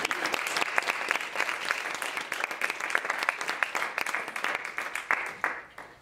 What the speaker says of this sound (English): Clap for that one as well.